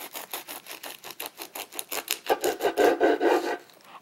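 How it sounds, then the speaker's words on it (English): A serrated knife saws back and forth through a nori-wrapped California sushi roll, a steady rasping rhythm of about a dozen close strokes that grows louder and fuller near the end. "So I'll cut this roll in half."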